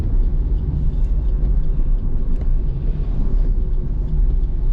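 A car overtakes on a wet monsoon ghat road in the Malshej Ghat area of Maharashtra. A steady, heavy rumble of engines and tyres on the road continues without a break, with no talking.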